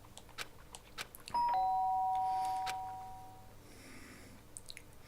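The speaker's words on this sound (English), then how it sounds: "The sharp sound of the doorbell pierced my sleepy ears and pulled me back to the real world." Electronic doorbell chime in Danganronpa: Trigger Happy Havoc, a single clear two-tone ding-dong ringing out loud and sustained before slowly decaying, with faint scattered clicks and ambient sounds around it.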